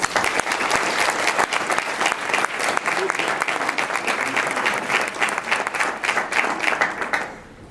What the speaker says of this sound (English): If we could give them a round of applause, please.